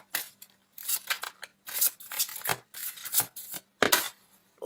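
Tarot cards are shuffled and drawn from the deck in a close series of dry, papery rubs and slides, loud and irregular with short pauses, with no one speaking.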